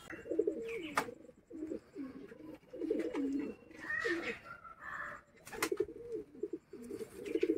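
Repeated soft, throaty cooing from pigeons close by, in rolling phrases with brief pauses, plus a few sharp clicks and flutters.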